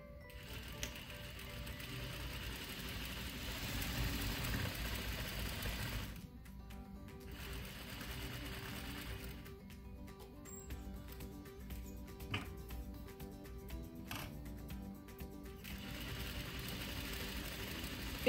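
A sewing machine topstitching a swimsuit shelf bra with cups, running in long steady bursts of close mechanical whirring with brief slowdowns and pauses between runs.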